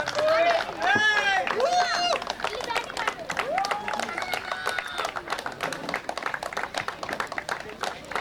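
An audience at a cricket tournament award ceremony claps in a steady patter, partly covered by voices talking over it at the start before the applause carries on more evenly.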